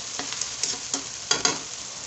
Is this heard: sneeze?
no